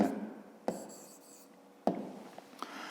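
A pen moves across paper while a maths exercise is written out by hand, quiet close scratching strokes separated by a few sharper taps.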